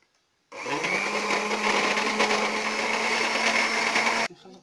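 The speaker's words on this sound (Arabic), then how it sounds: "نخلطو الزبده مع الزيت مع السكر كلاص" An electric mixer beats butter, oil and sugar together for a sable pastry dough, a steady close whirring drone that starts abruptly, runs for about four seconds without a break and then cuts off.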